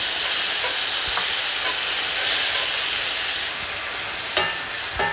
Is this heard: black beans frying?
yes